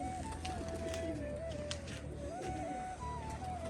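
Pigeons kept in pairs in breeding cages coo softly and repeatedly, with rising and falling calls over a low background hum.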